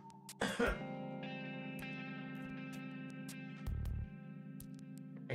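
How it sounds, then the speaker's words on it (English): A few sharp coughs from someone inside a room in the video game Goddess of Victory: Nikke, over a low, steady droning hum with an echoing, processed quality. "I hear coughing from inside the room."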